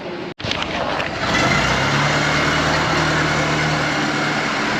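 A Ford Model T engine chugs during a ride, a close, steady, buzzy running note that settles into a constant drone after a brief break at the start.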